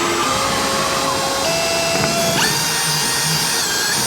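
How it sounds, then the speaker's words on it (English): A power drill runs continuously and loudly up close, its motor whine shifting pitch as it bores through material. "So all you're doing is drill your hole right here."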